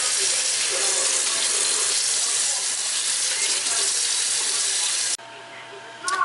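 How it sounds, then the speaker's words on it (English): Tap water runs in a steady, loud gush over salt mackerel being rinsed in a kitchen sink, then cuts off abruptly near the end, leaving a quieter room. "I wash my salt mackerel off"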